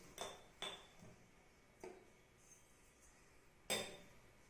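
A spoon clinks against a cup while stirring a homemade turmeric immunity drink, with four or five separate, fairly faint taps spaced irregularly over a quiet background.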